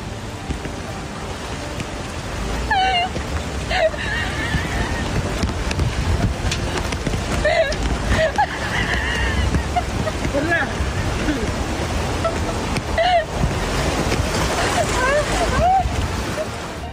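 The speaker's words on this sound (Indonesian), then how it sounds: "Seorang pria kuat tidak bisa berdiri dalam angin dan hujan." Typhoon Co-May wind and rain lashing a flooded area of Shanghai and Zhejiang, China, a loud steady roar of gusts with rushing water and wind buffeting, continuous throughout, with voices shouting faintly at moments.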